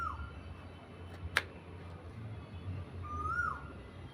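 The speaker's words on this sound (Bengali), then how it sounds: "আর দেখুন বন্ধুরা কোকিল ডাকছে" A distant Asian koel gives a single rising call after a faint opening note, with a sharp click in between against quiet background.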